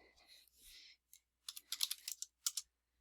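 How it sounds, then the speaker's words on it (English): Quick bursts of key taps on a computer keyboard while answers are typed into a Quizlet game, several clustered clicks with short pauses between, faint and close. "you have to type the answer as quickly as you can."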